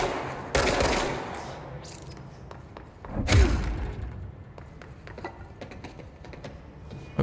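Gunfire in the Control video game on PC, with two loud close shots followed by a run of quieter impacts and clatter.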